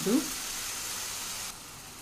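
Three ground tomatoes land in a hot pan for chole paneer curry with a quick soft splash, then a steady, even sizzle that settles slightly quieter toward the end.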